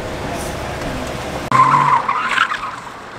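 A BMW E36 drifts out in Mexico, its engine droning before tires break into a loud, close skid and squeal halfway through, with people's voices mixed in.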